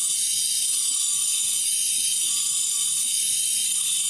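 Grinding during head gasket repair on a Briggs and Stratton EX Series engine gives a steady, close, high scraping hiss with a faint rhythmic mechanical ticking as the tool moves in and out.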